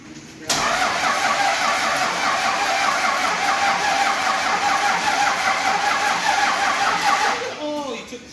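A 12-valve Cummins diesel in a dually pickup, just fitted with a ported cylinder head, cranks and catches, then runs loud and steady at close range for several seconds before dropping off near the end.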